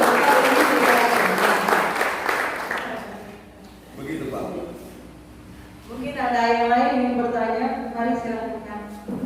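A church talk-show audience in Sumba Timur claps loudly for a few seconds. The applause then fades and gives way to talk, followed by sung or sustained vocal tones near the end.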